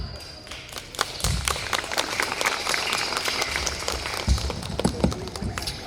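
Applause from an audience at a school cultural program for Independence Day, cheering young performers; a steady wash of clapping with a few sharper claps, moderately loud throughout, some voices mixed in.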